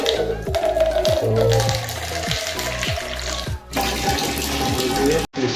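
Hot water from a geyser tap running into a bucket, a loud, continuous splashing gush with repeated sloshing pulses and a brief break near the end.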